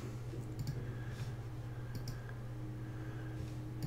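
Computer mouse clicks sound as a few sharp, light taps spaced irregularly over a low steady hum, close by and with no one speaking.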